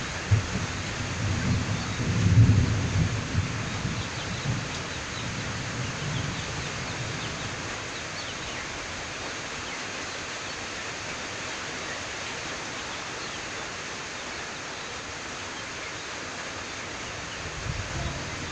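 Steady rain pours over rice fields, a dense constant hiss, with a low rumble of thunder rolling early on before the downpour continues alone.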